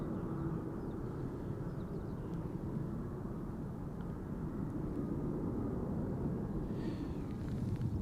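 A jet airliner climbing away after takeoff from Amsterdam Schiphol Airport makes a constant low, rumbling roar at moderate distance, steady in level and without speech.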